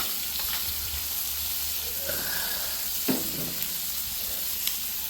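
A steak sizzles and steams on a Member's Mark Pro Series five-burner griddle, giving a constant close hiss with a few small pops and crackles.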